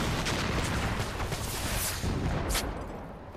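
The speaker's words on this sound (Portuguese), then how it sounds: "Tá dando tiro de bazuca em mim" Bazooka shots and explosions fill a Far Cry 4 firefight, with heavy booming blasts and dense crackling gunfire rolling continuously, loud and close, easing off slightly at the end.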